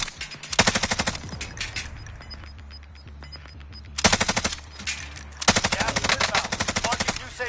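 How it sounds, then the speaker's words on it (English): Rapid automatic gunfire in a shooter video game, three loud bursts of fast rattling shots separated by short quieter gaps, with no talk over them. "I'm gonna shoot at him a couple times"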